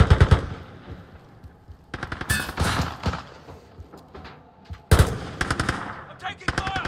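Automatic gunfire in the video game Modern Warfare 2022, with dense rapid bursts recurring across the clip between quieter gaps, loud and close.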